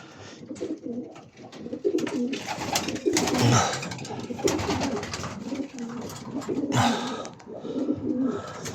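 Several male pigeons coo in low, throaty, repeated calls close by, overlapping continuously with soft rustling in the background.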